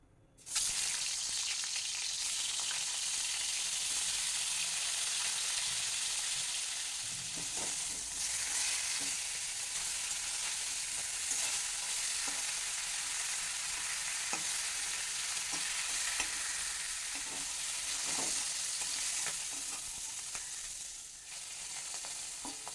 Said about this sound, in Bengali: এবার এই তেলের মধ্যে আমি এই ইলিশ মাছের টুকরোগুলোকে হালকা করে একটু ভেজে নেবো